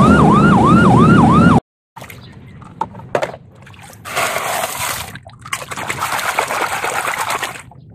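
A toy police patrol motorcycle gives a loud, rapidly wailing siren for under two seconds, then cuts off. Quieter sloshing and handling noises follow.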